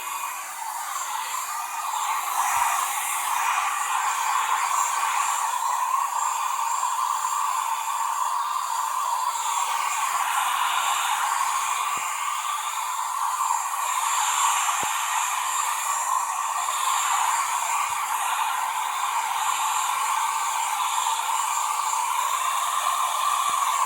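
A steady, loud whooshing blow runs without a break from start to finish, with faint knocks and bumps underneath and no voices.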